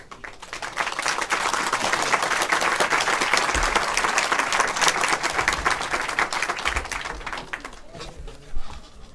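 Attorney General Jeff Landry is met with applause from a committee hearing audience, a loud, sustained clatter of many hands that thins near the end with a brief bump of noise.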